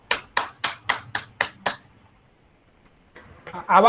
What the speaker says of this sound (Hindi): तो जोरदार तालियों से स्वागत करते हैं अमन सिंह नरेश जी का